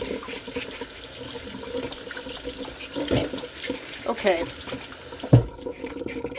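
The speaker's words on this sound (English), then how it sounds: "I'm scrubbing the cucumber." A cucumber scrubbed with a scrubber under a running kitchen tap: steady water flow with intermittent scrubbing rubs and a couple of sharper knocks, a brief spoken word near the end.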